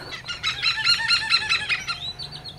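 Loud honking, goose-like bird calls in a rapid repeated series, likely a hornbill calling at Taiping Lake Gardens in Malaysia, close and continuous with no talk over it.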